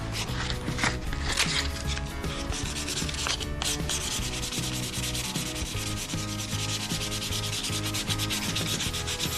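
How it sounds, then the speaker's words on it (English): The roof hinge of an E93 BMW 3 Series convertible is sanded down before painting, with continuous close rubbing and scraping that holds steady throughout. "give that a little bit of a sand down before I put the BMW coloured paint on"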